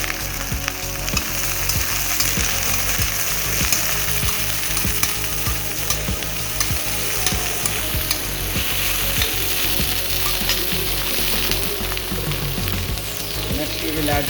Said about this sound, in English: We will fry the mixture for some time